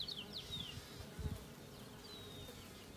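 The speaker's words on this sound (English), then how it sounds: "The frame that I'd given them, you can see, is completely covered in bees." Steady low buzzing of honeybees covering a hive frame during an inspection, close and continuous, with occasional individual bees zipping past at higher pitch.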